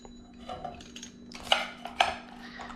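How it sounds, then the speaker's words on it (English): A knife or cutter slices into a baked pineapple pizza with a crisp crust, giving light scraping and a couple of sharp metallic clinks against a pan or plate, close and fairly quiet, with no talking. "let's go ahead and get a cut into this."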